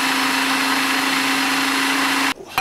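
A blender pulses fresh thyme and rosemary for a lamb marinade: a steady, loud motor whir with a constant hum holds for over two seconds, then cuts off abruptly with a brief rattle after.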